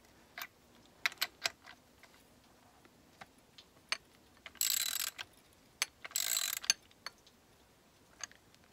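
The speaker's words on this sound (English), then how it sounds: "now I'm loosening it with the regular ratchet" Ratchet loosening a bolt on a camber plate of a Mini Cooper S R56, heard as sparse clicks and two short bursts of fast ratcheting, fairly faint and close, with quiet gaps between.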